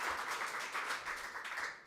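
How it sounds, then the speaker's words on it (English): Audience applause at a university event at UC Davis, a steady patter of clapping from a moderate crowd lasting about two seconds, fairly even and mid-distance. "You can applaud that."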